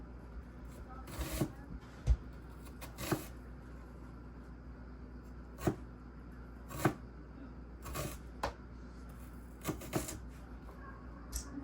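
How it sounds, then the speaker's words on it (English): A knife cuts a vegetable into thin slices for lettuce wraps, giving sparse, crisp taps on a board at irregular intervals, quiet and close over a faint background hum. "So I'm going to start by cutting that. I'm just going to do thin slices."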